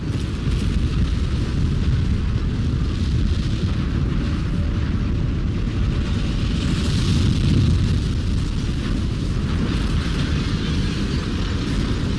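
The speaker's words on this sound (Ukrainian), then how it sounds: "Виходимо назовні, стається вибух страшної потужності." A continuous heavy rumbling roar of a massive explosion and its aftermath in the video game F.E.A.R., loud and dense throughout with a surging swell midway.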